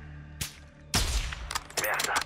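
Gunfire from the 2022 campaign of Call of Duty: Modern Warfare II, with a single shot followed by louder rapid bursts of automatic fire, sharp and close.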